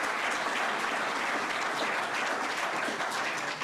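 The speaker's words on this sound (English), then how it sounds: "So please let us give a round of applause." A crowd applauding steadily at a live press event about congestion pricing in New York City, dense clapping at a constant loud level throughout with no pauses.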